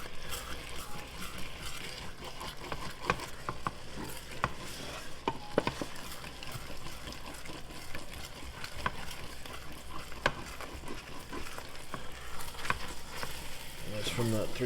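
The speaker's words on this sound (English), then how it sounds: "we'll go right into here and scratch the bottom and get up all those thick parts" A utensil scraping and stirring across the bottom of a pan of thickening leftover sauce with wine, repeated scratchy strokes under a soft sizzle, steady and close, with a voice briefly present.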